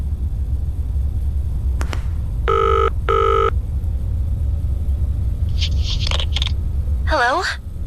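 An old-style telephone bell in the horror game Zoochosis rings in two short bursts over a low rumbling background, followed by other brief electronic tones.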